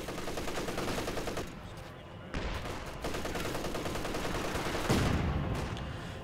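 Dense, sustained battlefield gunfire from Company of Heroes 2, with rapid machine-gun bursts and layered rifle shots across a constant busy soundscape, briefly dipping before a heavier surge near the end.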